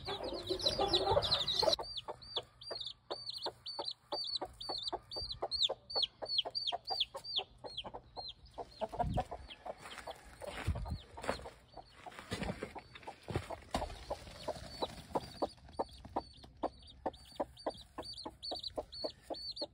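An American gamefowl hen of the brown red line clucks in quick repeated bursts beside a newly hatched chick, with sharp peeping calls overlapping the low clucks, close and clear.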